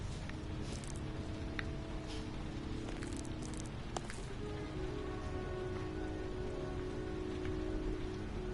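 Steady, dense rainfall from the video game Heavy Rain pours down in a constant close wash, with scattered droplet ticks and splashes standing out briefly and no voices.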